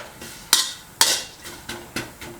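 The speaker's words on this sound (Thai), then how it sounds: "ผมขออนุญาตคั่วก่อนแล้วกันครับ" Galangal and lemongrass dry-roasting in a pan, heard as a series of sharp metallic clanks and scrapes of a utensil against the pan, about six strikes in a loose rhythm, close and fairly loud.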